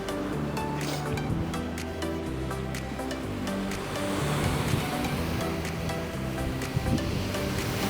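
Waves roll onto the shore of Lake Ontario at a lakeside park in Oakville, Canada, in a continuous washing surge with wind buffeting the microphone, fairly close and steady.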